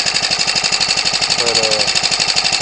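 A Ryobi (MTD) 29cc four-stroke R/C aircraft engine that had sat about a year and a half runs steadily close by, a fast, even, buzzing putter at constant speed throughout.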